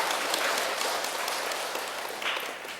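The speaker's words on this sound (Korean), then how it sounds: "아프리카 주었다고 하는 데는 또 박수가 작아져요" Applause from a temple audience at a Buddhist monk's Dharma talk, a steady wash of many hands clapping fairly evenly throughout, with no voices over it.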